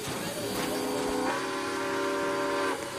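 A steam locomotive's whistle in the Roblox railroad game blows as a sustained, multi-toned wail lasting a couple of seconds, loud and near over a faint background rumble.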